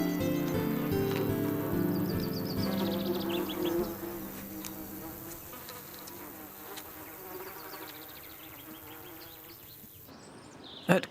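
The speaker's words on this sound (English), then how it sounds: "I can hear the buzzing of bees." Bees buzz steadily among other insects in a hay meadow, a dense close drone that stays loud throughout and eases slightly toward the end, with no voices.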